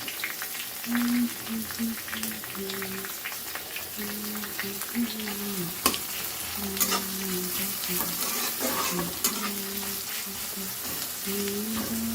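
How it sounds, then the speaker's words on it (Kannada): Spices crackle in hot oil while tempering for a vegetable palya, a steady close sizzle with stirring scrapes throughout and a faint voice in the background. "ನಾನು ಪಲ್ಯಕ್ಕೆ ಒಗ್ಗರಣೆ ಹಾಕ್ತಾಯಿದ್ದೀನಿ ಇವಾಗ"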